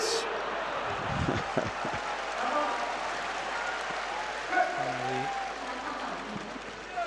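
Crowd at a professional fight applauding in a steady, moderate wash of clapping and murmur, with a commentator's voice speaking over it.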